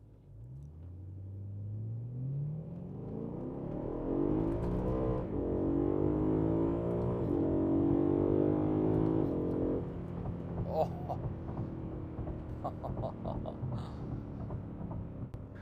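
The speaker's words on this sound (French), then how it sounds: "On va faire une belle accélération, c'est parti." A BMW M3 fitted with a new exhaust accelerates hard, the engine note climbing steadily for several seconds before easing back to a lower rumble.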